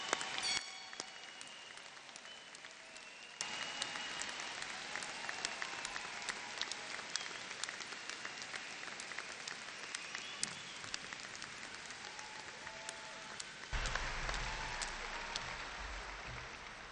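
Sustained applause from a large audience at a 2010 graduate college commencement, greeting the doctoral degree recipients; a dense, steady wash of clapping that swells louder near the end.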